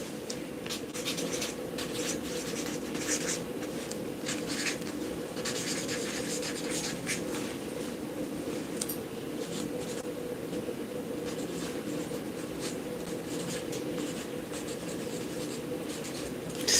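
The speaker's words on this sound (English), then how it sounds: "Let me write that down." A pen scratches on paper close up in a continuous run of short, soft strokes, steady and unbroken for the whole stretch over a low background hum.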